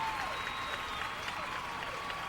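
Studio applause cued on a fantasy football preview show, a steady wash of clapping that stays even and moderately loud throughout, with a faint tone running beneath it.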